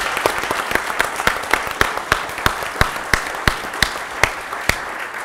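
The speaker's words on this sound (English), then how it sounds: "Can we all give them one more round of applause?" An audience claps at an evening veterinary medicine address, with steady rhythmic hand claps ringing out clearly through the hall and no voices over them.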